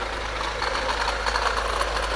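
A diesel Kia Sorento engine idling with a bad knocking fault, loud and close, a rough steady hum with rapid rhythmic metallic clatter ticking over it and a strong low drone underneath.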